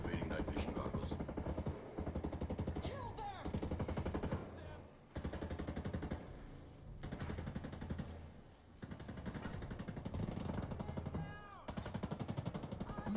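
Rapid automatic gunfire from Ghost Recon Breakpoint during a night-vision mission, with loud sustained bursts that pause briefly and resume several times, sounding close and dense throughout.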